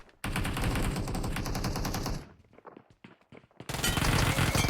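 Rapid automatic gunfire in the video game PUBG Mobile rattles in a dense, loud burst, breaks off into a brief lull of scattered shots, then resumes in another close, sustained volley.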